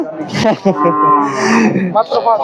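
A cow, mother of a five-day-old calf, moos once in a long, loud, drawn-out low call, close by, with brief bits of other sound before and after, at a cattle market in Gazipur, Bangladesh.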